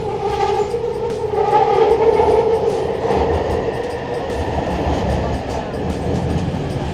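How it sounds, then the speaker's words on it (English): A Vancouver SkyTrain Millennium Line train runs toward Lafarge Lake–Douglas, giving a steady rolling rumble with a whining tonal hum that fades into a broadband track roar, heard from inside the car. "This is a Millennium Line train to Lafarge Lake, Douglas"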